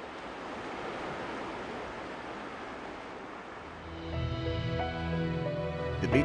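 Surf washes onto a north coast beach in the Western Isles of Scotland as a steady, distant rushing wash, gently swelling toward the end.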